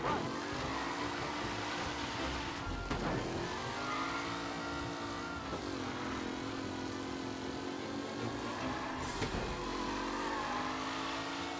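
A race car engine drones continuously during a lap race in Mafia Definitive Edition, its pitch rising and falling with gear shifts and brief dips, loud and close throughout.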